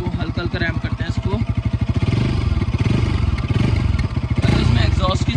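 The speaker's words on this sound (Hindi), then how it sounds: "और अभी आप लोग इसके एग्जॉस्ट की आवाज़ सुनो, मैं अभी इसको स्लो ही चला रहा हूँ" Bajaj Pulsar RS 200 motorcycle ridden slowly, its exhaust giving a steady low, pulsing thump throughout with a few brief rises in engine note, close to the microphone.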